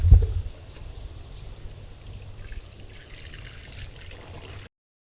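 Water trickles and pours into a self-watering grow bucket, a soft steady flow following a brief thump at the start, with no talk.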